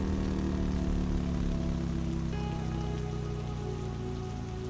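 Steady rain falling on a surface, a dense even patter with a low constant hum beneath, heard alone without voices.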